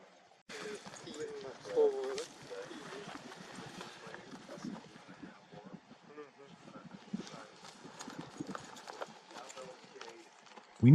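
Horses' hooves clip-clop in an uneven walking rhythm on hard ground near a hitching post, moderately close and fairly quiet, with a low engine idling faintly in the background.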